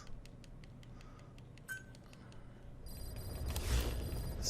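A phone rings in the stealth action game Metal Gear Solid V: The Phantom Pain. A trilling electronic ring swells in the last seconds over a low rumble, after faint earlier ticking.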